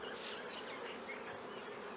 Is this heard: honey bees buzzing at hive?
yes